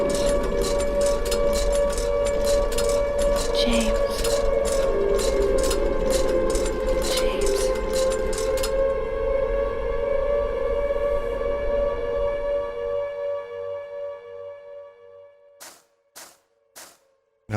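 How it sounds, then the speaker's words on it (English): A long, wailing air raid siren from the Silent Hill 2 video game sounds loudly and steadily with metallic clanging behind it, then fades and breaks off into quiet, leaving a few sharp hits near the end. "Oh, I don't like that siren."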